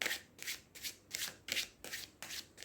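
A tarot card deck is shuffled in about seven quick, crisp riffling bursts in a steady rhythm, close and fairly soft, with no talking.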